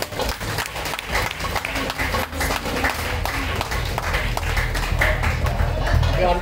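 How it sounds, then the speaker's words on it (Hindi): Loud, continuous applause from a crowd at an Independence Day celebration in an orphanage ashram, a steady wash of clapping that holds for several seconds. "जोरदार तालियां।"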